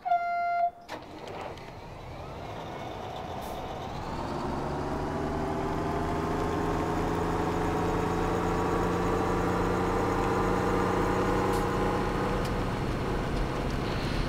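A tractor engine in Farming Simulator 17 starts up and then settles into a steady, droning run with a strong harmonic hum, continuing unbroken at moderate loudness with no talk over it.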